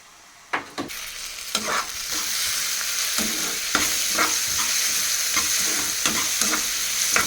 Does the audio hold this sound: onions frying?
yes